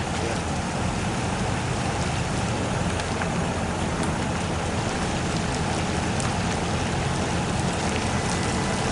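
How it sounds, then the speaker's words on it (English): Light rain sprinkles steadily beside Fishpond Lake, drops pattering onto the camera and surroundings in a dense, even hiss throughout with close tapping hits. "Getting a little bit of water on the camera because it is sprinkling a little bit."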